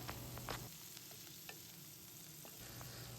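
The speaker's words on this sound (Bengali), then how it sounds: "গরম সর্ষের তেলের মধ্যে সেই পেঁয়াজটা দিয়ে দেব" Onion paste frying in hot mustard oil, a soft, even sizzle with a few faint spoon taps and scrapes, quiet and continuous with no talking.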